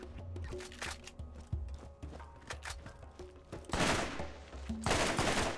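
A blast rifle fires in Borderlands, a video game: close mechanical clicks and rattling bursts of gunfire, followed by two loud, dense blasts near the end.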